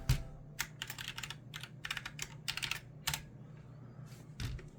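Someone types on a small foldable rubber keyboard, producing quick bursts of soft, close taps in irregular clusters with brief pauses between them, and nobody speaks.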